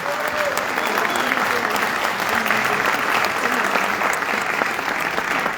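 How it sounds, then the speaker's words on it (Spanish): At a free book giveaway event in Mexico, an audience applauds steadily for guests being introduced, a dense, even wash of clapping holding at moderate volume for several seconds. "Les damos un aplauso, por favor."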